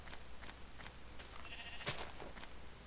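A single sheep bleats once in Minecraft, a short, fairly faint blocky-game bleat that rises briefly over a quiet background hum, with no talking.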